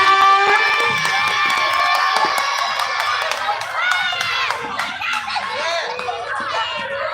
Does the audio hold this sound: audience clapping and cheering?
yes